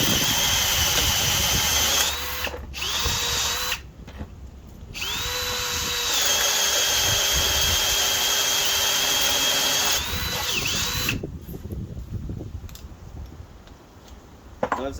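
Metabo HPT 18V DV18DC cordless hammer drill running at speed 1, drilling through a nut: a loud, steady motor whine that stops briefly and restarts several times, with no talk.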